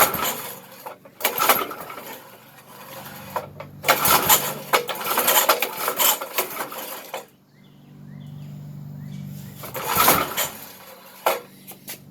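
A 33-year-old yard kart engine being cranked over in repeated bursts of mechanical churning and rattling, separated by short pauses, close by, with no sign of it catching.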